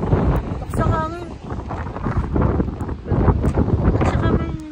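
Strong, cold wind at a Busan beach with waves buffets the microphone in a loud, continuous rumble, and a person talks over it.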